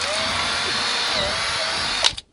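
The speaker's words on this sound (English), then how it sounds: "I'm actually drilling straight up through the roof" A power drill with a small quarter-inch bit bores straight up through a garage roof, giving a loud steady high whine that runs throughout and then winds down abruptly at the end.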